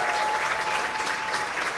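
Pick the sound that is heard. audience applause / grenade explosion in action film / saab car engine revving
audience applause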